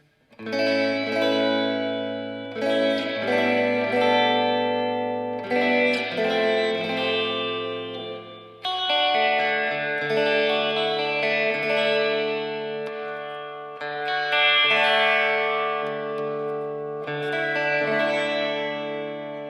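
An electric guitar through a Sonicake Twiggy Blues effects pedal, reverb turned all the way up, plays sustained chords, each strum ringing out and blending into a washy, echoing tail, with no talking.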